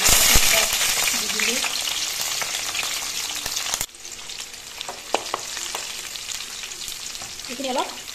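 Fish curry ingredients fry in hot oil in a wok while being stirred: steady loud sizzling with scraping stir strokes, easing slightly halfway through, no voices.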